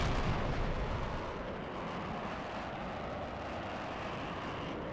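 Jet cannon fire in the air-combat game HAWX, a dense continuous roar of rapid gunfire and engine noise that stays steady and fairly loud throughout.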